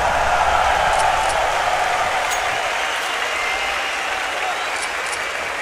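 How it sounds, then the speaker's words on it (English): Arena crowd at a CS:GO PGL Major quarter-final between Gambit and Fnatic, a broad sustained roar of cheering and clapping that stays loud, easing slightly midway, with faint sharp accents above. "Just listen to that crowd."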